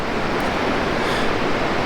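The Alaknanda river rushes beside a mountain trek from Govindghat to Ghangharia, a steady, loud broadband roar of flowing water that fills the whole moment without pause or voices.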